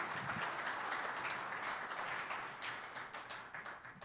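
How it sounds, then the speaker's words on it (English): Studio audience applause for a Green Bay Packers defensive lineman appearing as a guest on a live show, a dense burst of steady clapping that thins slightly toward the end. "Big round of applause for number 52."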